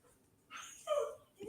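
A dog whimpers in short, thin, rising whines, fairly close and moderately soft, with a faint second whine at the end.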